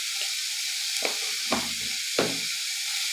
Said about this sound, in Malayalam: എന്നിട്ട് നന്നായിട്ട് ഇളക്കി കൊടുക്കുക